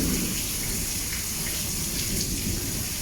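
Steady, continuous rain falls in Laos after days of downpour, a dense, even hiss of drops on surfaces that fills the whole stretch without pause.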